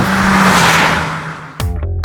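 A Citroën C4 Lounge with its THP turbo engine on a fast lap, loud engine roar and tyre noise building and then fading, followed by a sharp gear change as the engine note climbs again.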